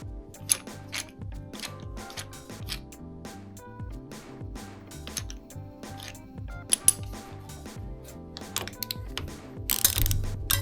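Repeated ratcheting clicks from a torque wrench tightening bolts on a Toyota Celica engine, a steady quick rhythm of close, crisp pawl clicks with a few sharper snaps and no talking.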